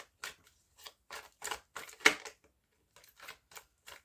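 Tarot cards being shuffled and laid out for a nine-card spread, heard as a run of short crisp flicks and snaps in irregular bursts, close and fairly quiet with brief pauses between them.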